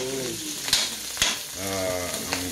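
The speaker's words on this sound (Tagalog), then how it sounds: "Ganyan lang po kasimple ang pagluto ng scrambled egg." Eggs sizzle steadily in a hot pan for a scrambled egg breakfast, with a couple of sharp utensil clicks, while someone talks over the frying.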